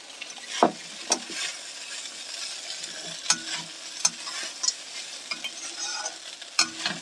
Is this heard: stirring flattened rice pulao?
yes